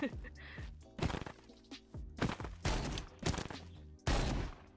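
Gunfire in a modded hardcore video game comes as several sharp, loud bursts of shots spaced irregularly across a few seconds, with voices talking in between.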